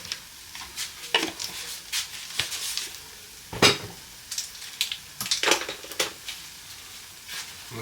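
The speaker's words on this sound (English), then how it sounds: "Get that cornstarch cooked down into that." Corn with cornstarch cooking down in a pan: scattered clinks and scrapes of a utensil against the pan over a faint simmering sizzle, irregular and fairly close.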